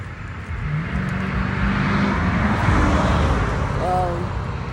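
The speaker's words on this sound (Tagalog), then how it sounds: "Maingay kasi andito kami, maraming sasakyan dumadaan." Steady broadband rumble of cars passing along a busy main street, continuous and fairly loud throughout, with a brief horn-like tone near the end.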